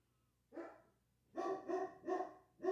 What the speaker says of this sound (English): Y'all hear my dog out there going crazy?